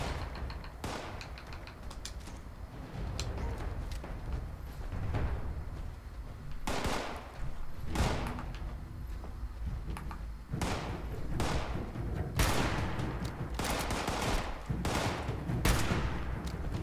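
Gunfire in the video game Fallout 76, a series of sharp, loud individual shots spaced irregularly over a low rumbling game soundscape, each crack standing out clearly, with no talking.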